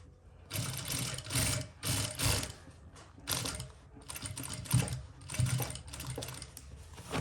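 A Jack industrial sewing machine stitches the hem of jeans through thick denim, in short bursts of rapid mechanical clatter separated by brief pauses, close and fairly loud.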